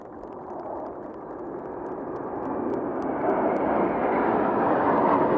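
Military jet formation flypast by Pakistan Air Force aircraft from the Number 29 Aggressor Squadron at an airshow, a broad steady roar that builds gradually in loudness over several seconds as the jets approach, with no voices over it.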